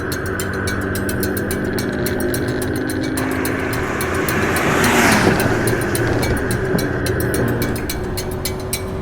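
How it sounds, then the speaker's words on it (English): A car engine in the racing video game Gran Turismo drones steadily throughout, its pitch swelling briefly as it revs up midway before settling back, with no voices. "It does sound like the car."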